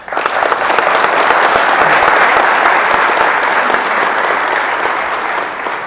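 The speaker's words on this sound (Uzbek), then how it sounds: "Mana shu insonlar uchun bitta qarsak" An audience claps together in a lecture hall, loud and sustained for about six seconds, dense even applause that eases slightly toward the end, with no talking over it.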